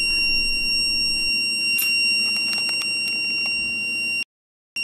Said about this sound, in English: if I use my hand to block the laser, the alarm will go off